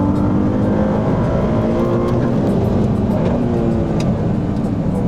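A Ferrari 296 Speciale, an 880 hp rear-wheel-drive supercar, blasts hard around the Fiorano track, its engine roaring loud and close with a sustained, dense howl and no talking over it.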